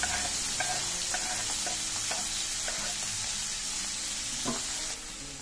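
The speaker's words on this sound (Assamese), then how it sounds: "দি গোটেইখিনি ভালদৰে লৰাই দিছো" Vegetables with green chilli, carrot and French beans stirred and fried in a pan for masala poha: a bright steady sizzle punctuated by light rhythmic scrapes of the ladle, dropping slightly quieter near the end.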